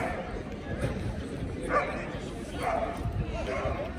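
A dog barks and yips a few times amid outdoor noise, with people talking over it.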